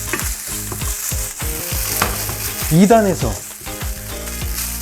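Frozen fried rice crackles and sizzles loudly in a preheated stainless steel pan on an induction hob, with constant frying hiss and scraping stirs. A voice speaks briefly over the cooking.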